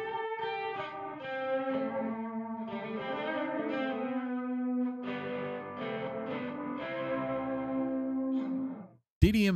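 An electric guitar plays sustained, shimmering chords through a delay and the DDMF Envelope reverb plugin, notes trailing and echoing into one another before a sudden loud burst at the end.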